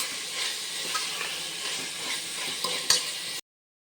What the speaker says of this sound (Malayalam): ഇനി നമുക്കിതിലേക്ക് ചതച്ച് വെച്ച ഇഞ്ചി, പച്ചമുളക്, വെളുത്തുള്ളിയും കൂടി ഇതിലേക്ക് ഇട്ട് കൊടുക്കാം. അത് നല്ല ഒരു പച്ചമണം വാങ്ങുന്ന വരെ ഇളക്കി കൊടുക്കാം.